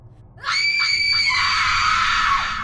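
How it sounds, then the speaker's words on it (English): A piercing, sustained shriek rises suddenly and holds loud for about two seconds with wavering harmonics before tapering slightly, set in an eerie horror scene of whispers and shadows, alone with no talk. "The whispers then rise to a shriek."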